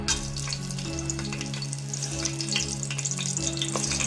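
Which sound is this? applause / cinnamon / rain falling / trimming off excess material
cinnamon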